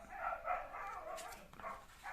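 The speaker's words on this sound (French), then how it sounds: "Mes chiens qui continuent à aboyer, ils sont pénibles." Several pet dogs bark indoors in the background, fairly faint, with a few scattered yips over a steady room noise and no speech.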